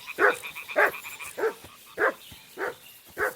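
A dog reacting to a group of boars in Kingdom Come Deliverance 2 lets out six gruff, evenly spaced woofs, near and distinct over a hushed background.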